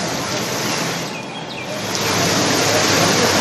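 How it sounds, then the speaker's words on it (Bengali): Heavy rain pours steadily in Cooch Behar, a dense, loud, continuous hiss with no pauses, swelling slightly toward the end. "সকাল থেকে ভারী বৃষ্টি হচ্ছে কোচবিহারের ছবি একবার দেখে নেওয়া যাক।"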